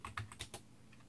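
Keys clatter on a Mac Pro 1,1 computer keyboard in a quick burst of several close taps, then the typing trails off into quiet room tone.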